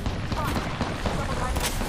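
Continuous rapid gunfire in the video game Apex Legends, a loud dense burst of shots throughout with a voice talking over it.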